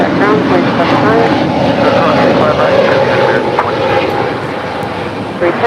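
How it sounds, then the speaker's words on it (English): Spirit Wings A320neo airliner departing from LAX for Fort Lauderdale, a loud sustained jet engine roar with a whining tone rising through it, while a voice talks over the noise. "That is Spirit Wings Flight 310 departing to Fort Lauderdale on an A320 Neo"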